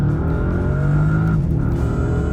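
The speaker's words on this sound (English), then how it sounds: "Everything about this car is so fast. I mean, you just put your foot down." A 2025 Bentley Continental GT Speed accelerates hard from low speed in second gear, a loud, close, steady engine roar that climbs in pitch, then drops briefly as it shifts before pulling again.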